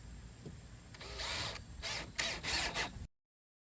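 Power drill driving fasteners through plywood on a homemade pig feeder, several short whirring bursts with brief pauses between them, close and loud, ending abruptly.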